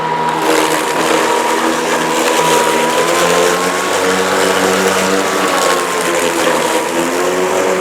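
Toro 60V Flex-Force cordless 21-inch rear-wheel-drive mower running under throttle, a loud close steady electric whine and whir with a faint rising and falling pitch, continuous throughout.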